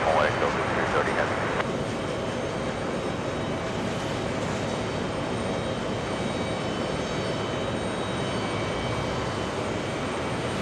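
A Delta heavy jet airliner lines up on runway 22 right at JFK Airport in summer heat, a steady broadband engine roar rumbling continuously at a distance, with a brief louder burst at the start and a voice talking over it.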